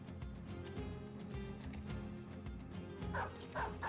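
A dog barks and yips in a video game, a string of short repeated calls mixed into busy game ambience at moderate distance.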